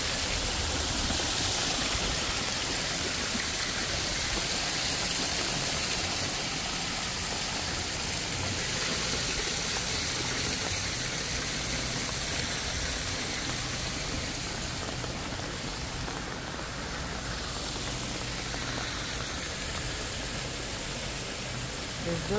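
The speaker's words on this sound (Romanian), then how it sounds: "Ploaie de vară." Steady summer rain pours down at a zoo in Bali, a dense, even hiss of heavy drops that holds throughout, with voices faintly present in the background.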